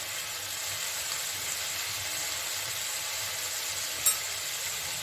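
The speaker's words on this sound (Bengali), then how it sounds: "এখন এটাকে আমি কষিয়ে নেব" Kashmiri chili powder and turmeric frying in oil with tomato for a rohu fish curry, a steady soft sizzle and hiss throughout with one brief clink near the end.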